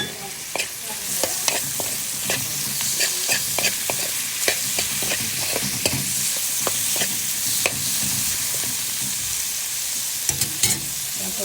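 Pork pieces frying in a pan with sautéed garlic, onion and ginger, a loud constant sizzle broken by frequent sharp clinks of a spatula stirring and scraping, no speech.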